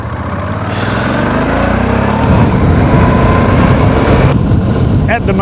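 Motorcycle fitted with road-oriented tyres riding along toward Point Sturt on South Australia's Fleurieu Peninsula, a steady close engine drone with strong wind rush that swells slightly partway through, with a voice talking over it.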